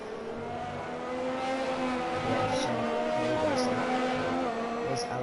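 An F1 car in the video game F1 2020 on a lap of the British circuit, a loud close engine whine rising and falling through gear shifts and corners, steady and continuous.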